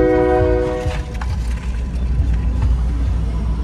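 A train rumbles past at close range, with a steady low roar throughout and a loud multi-tone horn blast in the first second before it fades into the rolling noise.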